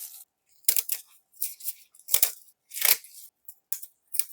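Young radish is cut in half with a knife, giving a series of crisp, close crunching snaps and scraping slices, separated by short silences, in an irregular rhythm.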